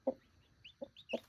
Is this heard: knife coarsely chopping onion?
no